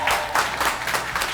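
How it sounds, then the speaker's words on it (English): Studio audience applause on a local Nottingham TV news show, a brief burst of clapping from a small crowd, moderately loud and close, with no talking over it. "Round of applause for Bex, please."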